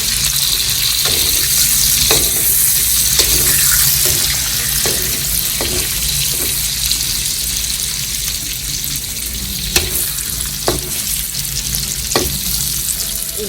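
Pork pieces fry in oil for crispy fried pork, giving a loud, constant sizzle with occasional scrapes and taps from a utensil as they are stirred.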